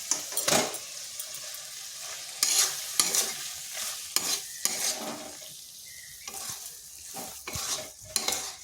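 Eggs tossed into fried spice masala for an egg curry, stirred with a utensil scraping the pan in repeated bursts over a steady close sizzle of oil; no talking.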